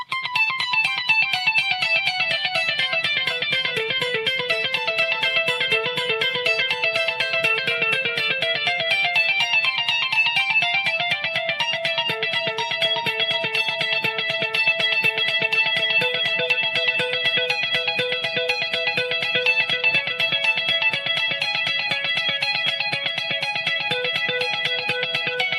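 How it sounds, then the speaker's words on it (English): Electric guitar played through a delay effect: sustained, bright notes overlap with repeating echoes in a continuous wash over about 25 seconds, with no talking. "And with the delay, it sounds like this."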